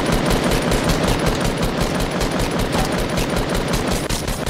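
Continuous automatic gunfire in a video game, dense rapid bursts of shots running loud and unbroken throughout with no talk.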